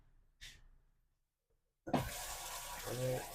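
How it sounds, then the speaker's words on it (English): Water gushes from a faucet in a 2022 Keystone Montana 3855BR fifth-wheel RV, starting abruptly after a brief splash and silence, then running steadily at close range. "Hot water, cold water."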